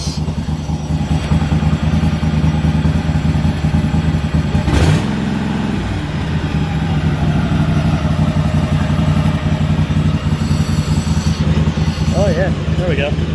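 Kohler-engined free garden tractor, fire-damaged, running steadily while driven in low and high gears and reverse; a continuous loud engine drone with a brief shift interruption midway, plus some clatter.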